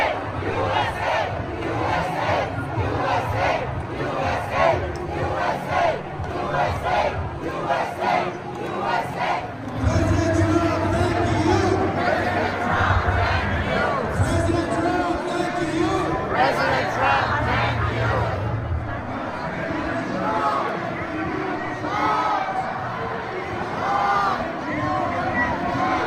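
A large rally crowd fills the streets of Washington D.C., a dense continuous roar of many voices chanting and cheering in unison, loud and close throughout with rhythmic shouted chants swelling midway.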